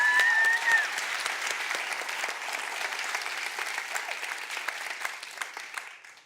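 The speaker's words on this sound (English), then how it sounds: "Let's give her a very warm round of applause and welcome Masumi to the stage." Audience applause welcomes a speaker named Masumi to the stage at the Unreasonable Impact 2018 World Forum, steady and full throughout, easing off slightly toward the end with no talk over it.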